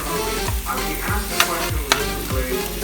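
Garlic and onion sizzle steadily in hot vegetable oil while a utensil scrapes and stirs them in the pan at a regular pace, with a couple of sharper clinks rising over the continuous frying.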